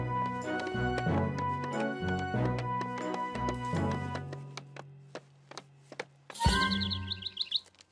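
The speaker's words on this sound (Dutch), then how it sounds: "Die vogel vindt het gewoon leuk hier, Tom." Light melodic tones with short chirpy bird calls, tweeting over soft music, then a brighter burst of high chirps near the end.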